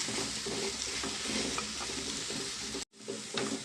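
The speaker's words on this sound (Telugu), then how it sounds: "ఆకైతే బాగా ఫ్రై అయిపోయిందండి" Gongura leaves sizzle steadily in a hot pan, with a brief scrape or stir breaking the dense frying hiss, heard up close with no talking.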